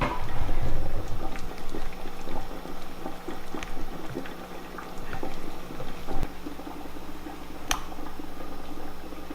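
A canner of hot water with vinegar added bubbles on the stove before jars of meat spaghetti sauce go in; steady close boiling and bubbling with scattered pops and small ticks continues throughout, with no talk.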